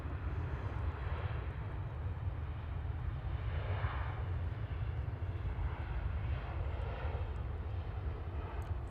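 A fixed-wing airliner arriving from Dublin at Manchester Airport, a loud steady engine roar with a low rumbling drone that holds for the whole stretch, broad and close, with no voices over it.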